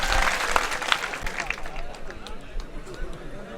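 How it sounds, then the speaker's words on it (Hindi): Audience clapping at an all-India mushaira poetry gathering in Kannauj, a dense, steady wash of applause that stays strong throughout, loudest at the start, with a crowd murmur beneath. "एक बार जोरदार ताली बजाएं आप नदीम साहब।"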